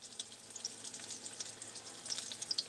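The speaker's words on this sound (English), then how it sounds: "I'm frying whiting." Whiting fish fries in a pan in a home kitchen with a light, crackling sizzle, soft and close, dotted with small sharp pops of spitting oil and no talk.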